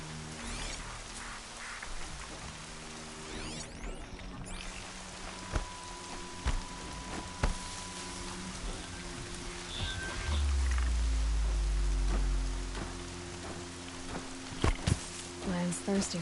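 Rain falling in the video game Horizon Zero Dawn, a soft continuous hiss of drops under game ambience, with a low rumble swelling midway and a few faint tones and clicks over it.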